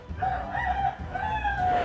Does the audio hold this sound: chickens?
yes